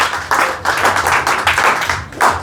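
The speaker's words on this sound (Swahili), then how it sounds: "Pigia Yesu makofi ya kilo mingi." A church congregation claps together during a sermon, a loud, dense burst of many hands clapping in uneven rhythmic waves with a few stronger swells, close and filling the room.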